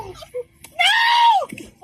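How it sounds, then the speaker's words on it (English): A child screams while deputies pin a man to the ground during a police arrest in Clayton County, Georgia; a single loud, high wailing scream lasts under a second, with brief scuffling and voices around it. "A child screams for his father."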